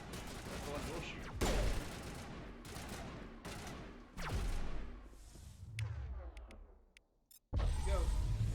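Gunfire in the video game Mass Effect crackles in rapid bursts, with sharp repeated shots, heavy thuds and brief lulls between volleys, loud and close throughout.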